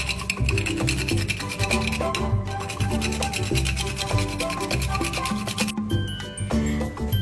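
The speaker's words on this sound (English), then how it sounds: "I'm going to grate a little bit of nutmeg" Nutmeg grated by hand for a chicken fricassee, a rapid rhythmic scraping and rasping close up that goes on steadily, with clinks of the grater and no talking.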